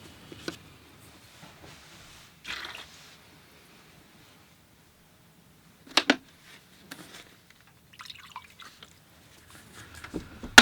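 Water sloshing and dripping as a watercolor painter changes the rinse water, heard as a few brief, quiet splashes and trickles separated by long near-silent gaps.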